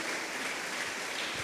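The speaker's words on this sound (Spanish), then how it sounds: "Dele palmas al Señor" A church congregation claps together during a service, a dense and even wash of many hands heard alone for a brief stretch, steady and fairly soft.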